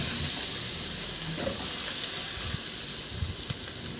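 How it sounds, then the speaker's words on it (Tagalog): Garlic sautéing in a small amount of oil in a pan, giving a steady, dense sizzle that holds close and even throughout, with a faint clink and no speech. "igisa ko na yung bawang"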